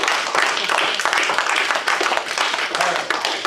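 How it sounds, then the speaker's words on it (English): An audience clapping together, a dense, sustained patter of many hands, loud and close, with a voice faintly mixed in. "I think we all need to clap again here."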